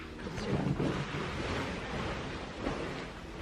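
A bed sheet is spread and tucked over a bed at home: a continuous, close, soft rustle and flap of fabric with a few fuller swishes, with no talking.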